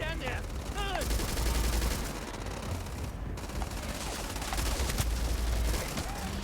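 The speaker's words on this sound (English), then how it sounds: "We need to go full firepower, so we're going to go with the fully automatic rifle." A fully automatic rifle in the Starfield video game fires in rapid, sustained bursts of loud crackling shots with sharp booming peaks, close and dense over several seconds, with game effects mixed in.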